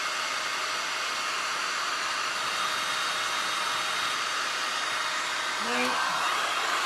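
A heat gun blows continuously over glass and resin art, making a steady, loud, even whooshing roar close by, with a faint brief sound near the end.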